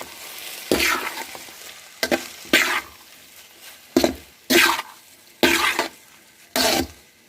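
A spatula tosses and mixes cauliflower fried rice in a hot pan, with short scraping, sizzling bursts repeating roughly every second and quiet gaps between them.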